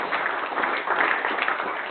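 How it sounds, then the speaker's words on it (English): Attendees at a Docker meetup applaud the evening's speakers, a continuous even patter of many hands, moderately loud, with no distinct voices. "a huge round of applause for our speakers tonight"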